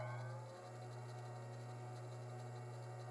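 Bench grinder fitted with CBN wheels running steadily at idle, a quiet, constant low hum with faint broadband whir, close to the microphone and with no voices.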